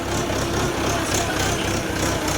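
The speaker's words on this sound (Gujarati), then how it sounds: "આ ભાત ચોપડવાનું મશીન છે" A rice planting machine's engine runs in a farm field, a steady close mechanical chugging with a rapid regular low pulse and no speech over it.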